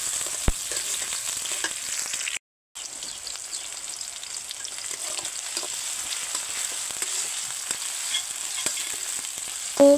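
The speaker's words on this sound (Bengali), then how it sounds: "প্রথমে পেঁয়াজটা ভেজে নিচ্ছে। তেজপাতা, দারচিনি," Onion frying in oil with bay leaf, cinnamon and cardamom, a steady close crackling sizzle across the whole stretch, broken by a brief silent gap, with occasional sharper pops and spatters and no voices.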